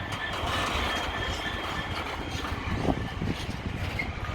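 Class 66 diesel freight train passing at Peterborough, a steady rumble of wagons rolling by with faint clattering of wheels on rail, moderately close and continuous throughout.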